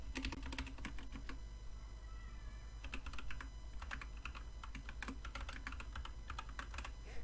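An email address is typed on a computer keyboard as a quiet, continuous run of quick key clicks with brief pauses, heard alone over a faint low hum.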